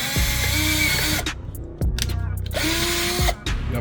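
Power drill boring into the bumper of a 2018 Infiniti Q50S to fit a carbon fiber third brake light, two long close bursts of whining motor with a brief stop between them.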